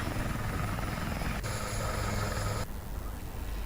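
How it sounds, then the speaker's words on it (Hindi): An Air Force rescue helicopter over flooded areas in Raisen, its rotor chop loud and continuous and its engine whine steady, heard alone with no speech. "वहां पर अब हेलीकॉप्टर की मदद से लोगों का रेस्क्यू किया जा रहा है"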